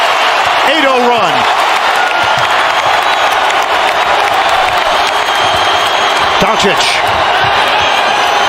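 A packed NBA playoff arena crowd, Mavericks versus Jazz in Game 6, roars loudly and continuously with applause and cheering, while an announcer's voice cuts in over the din and sneaker squeaks sound now and then.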